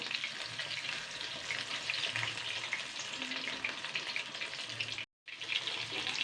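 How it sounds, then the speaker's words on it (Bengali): Steady, loud sizzling of battered, stuffed ash gourd frying in hot oil, continuous with faint clinks, briefly cut off near the end. "এটা কিন্তু ভাজা হয়ে গেছে আমি কিন্তু উল্টে পাল্টে ভেজে নিয়েছি"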